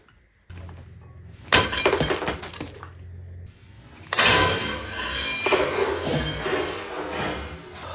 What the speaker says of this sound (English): I just sheared the bolt off, so I'm happy that's tight enough.